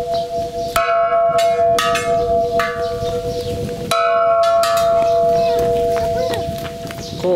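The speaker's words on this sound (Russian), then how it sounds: "Колокол-то остановить надо было." A church bell rings in loud, repeated strikes, each tone ringing on and humming between hits, with some background noise underneath.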